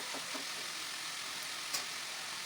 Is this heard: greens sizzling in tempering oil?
yes